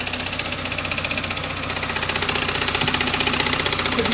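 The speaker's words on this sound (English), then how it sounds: "That clicking is kind of annoying." A Toyota AW11 MR2 engine idles with a rapid, steady mechanical clicking that ticks in time with engine speed, close and continuous, growing slightly louder partway through.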